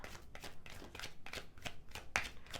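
Tarot cards being drawn and handled for a reading: soft, quick papery flicks and slides in a close, quiet series, with a small sharp tap near the end.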